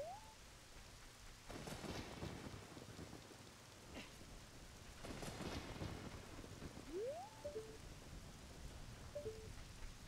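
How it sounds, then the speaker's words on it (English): Steady rain falls with two rolling thunder rumbles in The Legend of Zelda: Ocarina of Time, plus a few brief electronic tones rising over the downpour. "Oh, it's raining."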